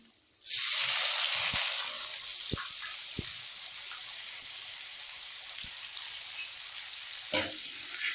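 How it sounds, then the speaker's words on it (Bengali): Chopped onions hit hot oil with whole cumin seeds and burst into a loud, steady sizzle that carries on strongly with a few small knocks and clinks, without talking. "এবার আমি পেঁয়াজ কুচিগুলো দিয়ে দিব।"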